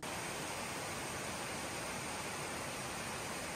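Jungle waterfall in the Yucatán, a steady, even rush of falling water heard from a distance, soft and constant with no voices.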